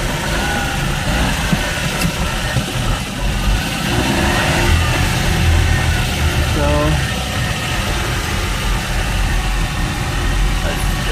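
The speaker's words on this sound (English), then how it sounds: "I'm in the little truck, and it's running pretty good." Engine of a 1988 Suzuki Carry DB71T mini truck running while driving, a steady mid-pitched drone with slight revving, heard from inside the cab with a voice talking over it.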